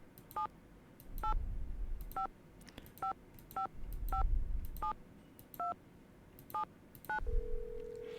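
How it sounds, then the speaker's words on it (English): Telephone keypad dialing tones in the Nancy Drew adventure game Secret of the Scarlet Hand, about a dozen short beeps in an uneven sequence over low rumbling background, ending on a steady tone. "I'm gonna try and just call the phone number I have in this playthrough"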